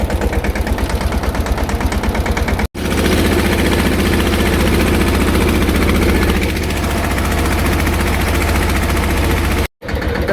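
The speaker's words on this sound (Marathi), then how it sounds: "गेलं बघा ट्रॅक्टर धक्का स्टार्ट." Farm tractor engine, push-started for spraying, running loud and close with a rapid, rough low-pitched chugging pulse that continues steadily, broken only by two abrupt momentary cutouts.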